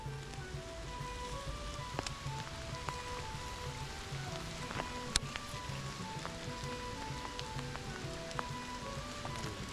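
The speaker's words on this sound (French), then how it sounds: "il s'est mis à pleuvoir là" Steady rain falls around a château moat during a pike-fishing outing outdoors, a constant soft hiss with scattered sharper drops and taps throughout, fairly quiet and uninterrupted by talk.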